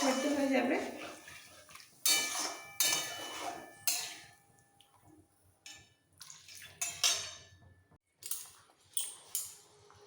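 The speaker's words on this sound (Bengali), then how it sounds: "এবার দিয়ে দিচ্ছি জল অল্প করে জল দেবো" Water poured in several short bursts into a pan of okra and potato curry, splashing and sizzling with pot clatter between pours, fairly close.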